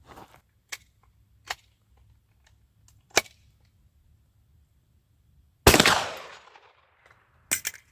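Shotguns and a pistol-caliber carbine being function tested, firing single shots spaced a second or two apart, several sharp cracks followed by one louder, fuller blast with a trailing decay and another shot at the end.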